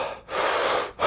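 A person breathes heavily, imitating panicked breathing as if fleeing a tiger: two long, loud, ragged breaths close to the ear, broken by a short pause, with no talking.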